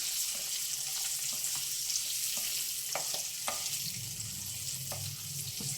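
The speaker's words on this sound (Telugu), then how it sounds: "ఎక్కువ వేగవలసిన అవసరం లేదండి, జస్ట్ కొంచెం వేగితే చాలు, తీసేద్దాం." Eggs fry in a pan for a Telugu tomato egg curry, giving a steady close sizzle throughout, with occasional light taps and scrapes and a soft rumble near the end.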